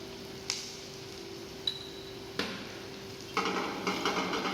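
Vegetables with garlic, salt and black pepper are stirred in a pan, with a steady frying sizzle, a few sharp utensil clinks against the metal, then scraping and stirring near the close.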